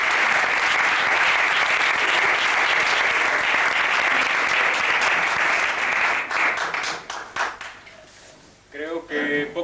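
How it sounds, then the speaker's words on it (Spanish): A lecture audience at a magic and humor talk bursts into sustained, dense applause, loud and even for about six seconds before fading into scattered claps and then a speaking voice. "un aplauso"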